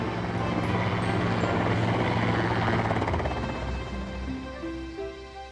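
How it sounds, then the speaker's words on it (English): A helicopter drones loudly and steadily overhead, its rotor thrum and engine whine filling the air before slowly fading as it moves away. "However, Harold the helicopter was not so lucky."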